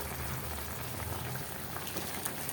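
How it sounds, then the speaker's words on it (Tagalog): Chicken and pork adobo bubbling in a pot, its released juices at a steady rolling boil, a dense continuous close simmering hiss with no voices. "Ayan na, kulo na. Lumabas talaga yung katas."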